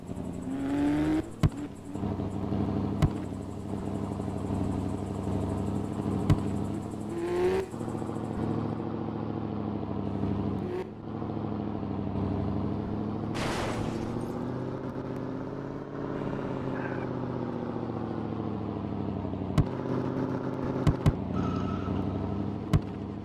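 Cop car engine in Forza Horizon 4 drones steadily with rising and falling revs, gear-shift dips, and a few sharp clicks, heard alone without talk.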